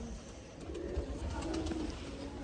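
Pigeons coo softly in low, rolling murmurs, close by against a steady hissing background; the birds include a breeding pair of champion flying pigeons.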